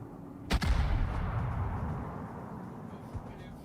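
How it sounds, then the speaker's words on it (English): Battleship guns fire at the Arizona in World of Warships, one loud booming salvo followed by a long rolling rumble that slowly fades, with a faint thud near the end. "I'm gonna take a shot at the Arizona."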